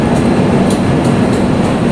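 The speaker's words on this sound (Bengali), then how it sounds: "এই যে পূর্বা এক্সপ্রেস এটাই যাচ্ছে" The Purba Express pulling out of a railway station, a loud close rumble of rolling carriages with faint rhythmic wheel clicks over the track.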